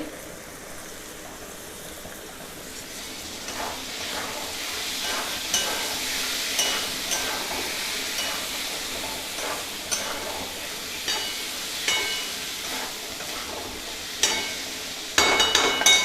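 Capsicum sizzling in a pan with ginger-garlic paste for pav bhaji, a steady frying hiss with soft spoon-stirring scrapes every second or so, close by.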